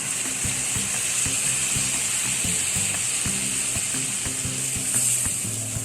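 Thick masala goes into a pan of frying sole fish for a Mangalore-style curry, setting off a loud, constant sizzle over a rhythmic scraping of stirring.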